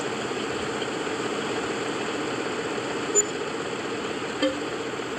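A tractor engine in Farming Simulator runs with a steady mid-pitched idle, loud and constant, with two faint clicks along the way.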